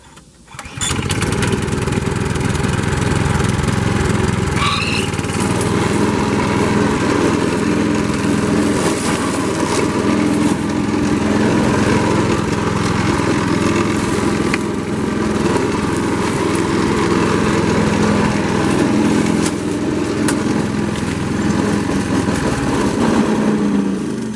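A walk-behind string trimmer converted into a brush hog with blades mows through brush, its small engine running loud and steady for the whole stretch after a brief start, with no talking over it.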